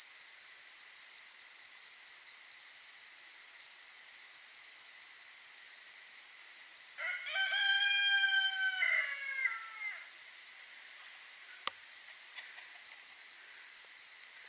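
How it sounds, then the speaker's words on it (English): A rooster crows loudly for a few seconds amid a steady pulsing of insects, with faint clucking and a sharp click near the end. "farming chickens and insects galore"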